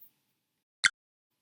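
A single quiet, crisp snap sounds once from a computer vision headset, signalling that it has found a person's face, with silence before and after.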